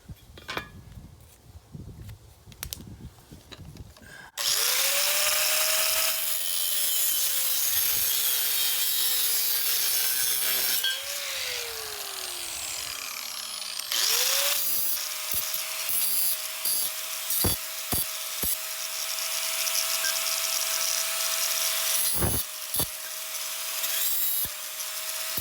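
An angle grinder cuts through a metal bar for a Land Rover Discovery 200TDI battery hold-down, a loud sustained high whine with shifting pitch after a few seconds of scraping and handling, and brief pauses between passes.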